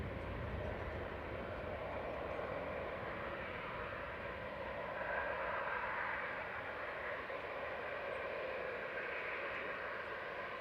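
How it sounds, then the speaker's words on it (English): A Ryanair Boeing 737-800 jet at Manchester Airport roars steadily at a moderate distance, a broad continuous engine rumble and whoosh holding level throughout with no voices. "Ryanair 555 back to Dublin. 737-800 EI GSI."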